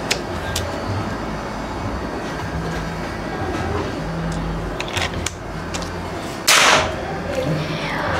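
A single sharp shot from a Predator OD 38 V1 PCP air rifle cracks out near the end, a short burst of hiss against steady background noise.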